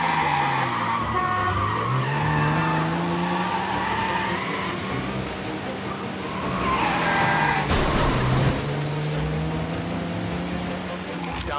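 Car tires squeal and skid in a long screeching slide in Mafia: Definitive Edition, engine droning underneath, ending in a sudden crunching impact, with someone talking over it.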